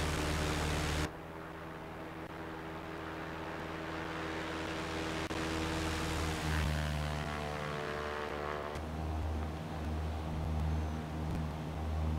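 A simulated propeller airplane drones steadily in flight in X-Plane 11, a continuous buzzing engine hum with airy rushing noise that shifts in pitch partway through, no voices.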